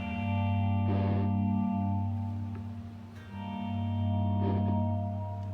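Sustained electric guitar chords through a reverb pedal ring out with heavy reverb and distortion, swelling and fading twice with no talking.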